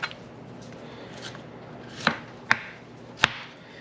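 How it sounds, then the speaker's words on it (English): A knife shaves the skin off a beet in a kitchen, heard as three sharp, close cutting clicks spaced about half a second apart after a quiet stretch. "I'll just go around and shave it with my knife."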